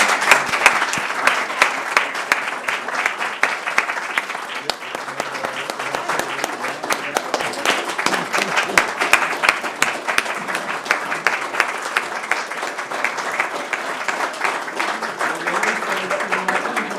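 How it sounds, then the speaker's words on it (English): An audience at a school board meeting applauds award winners with steady, dense clapping that fills the room, continuing evenly for the whole stretch. "Please join me in giving them a round of applause."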